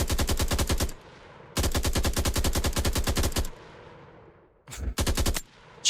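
Rapid automatic bursts of 7.62 rifle fire in a Vietnam-era first-person shooter game, loud and close: a long burst, a second sustained burst, then two short bursts separated by brief gaps.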